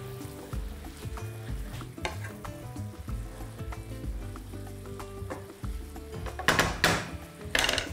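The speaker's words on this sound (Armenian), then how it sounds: "ավելացնում ենք կարմիր կիսաանապակ գինի," Red semi-sweet wine, about 50 grams, hits a hot pan for a layered puff pastry pie filling, giving a sustained sizzle with repeated scrapes and knocks of stirring, ending in a louder hissing burst.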